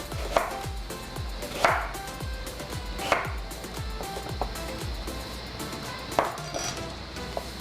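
Knife cutting peeled jicama into fine julienne on a board: rapid rhythmic taps with a few louder chops, close and steady.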